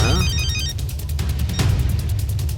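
A telephone ringtone plays in a tense home setting, a repeating electronic trill with rapid pulsed tones over a low steady background hum, continuous and fairly loud with no speech.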